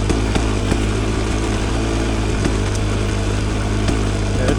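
A Rieju Ranger motorcycle rides on a road in third gear at partial throttle, its engine droning steadily and loudly with an even, unbroken tone and no voices.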